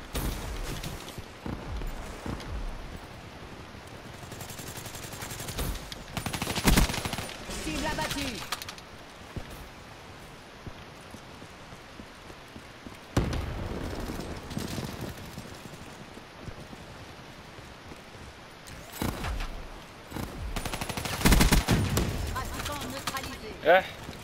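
Gunshots from the golden Kuda in a shooter video game, heard as several separate loud bursts of fire spread across the stretch, with a player talking between them over a steady background hiss.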